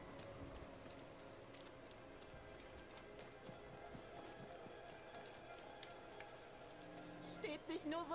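Horse hooves clopping at a steady running gait while riding through a muddy, rain-soaked road in Diablo IV, mixed under steady rain and game music, with a busier burst of sound near the end.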